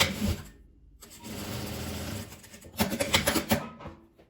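Sewing machine stitching a narrow hem along the top edge of a fabric-scrap keychain pouch, running in short bursts of rapid mechanical whirring separated by brief stops, close and clear with no talk.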